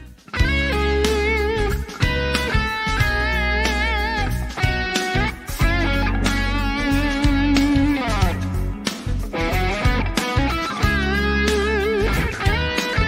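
Electric guitar plays an expressive blues arpeggio passage, with bends and vibrato giving shape to the notes, loud and continuous with steady picked attacks and no talking.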